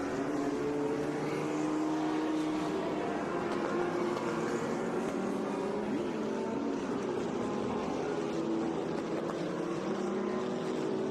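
A white 1967 Porsche 910 race car drives on track at a historic racing reunion, its engine a loud, sustained roar with shifting pitch that stays steady over the whole stretch.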